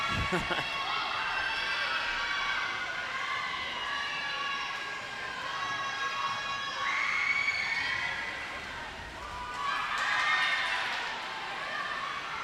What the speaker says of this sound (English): Now you can hear all the fans cheering.